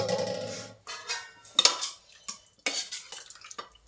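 A pot of chicken biryani being opened, metal lid and utensils clinking and scraping in several short close bursts separated by brief pauses, no talking.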